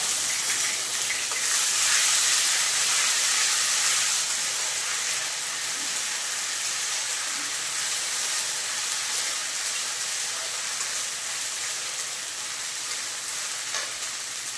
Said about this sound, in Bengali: এবার দিয়ে দিলাম আদা রসুন বাটা।